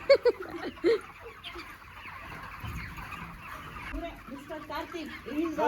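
Chickens on a poultry farm cluck in short bursts at the start and again near the end, with a softer murmur of birds and faint background noise in between.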